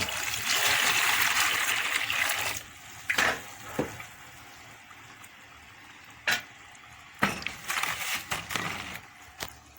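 Water pours steadily into a container holding a liquid soap mixture of STPP and dense soda ash, a continuous near splashing rush for a couple of seconds, then brief scattered trickles and splashes.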